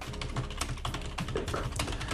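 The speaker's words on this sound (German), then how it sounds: "ich muss zwischendurch ja noch tippen" Rapid, steady typing on a computer keyboard during a Minecraft gaming session, a continuous clatter of close key taps with no voices.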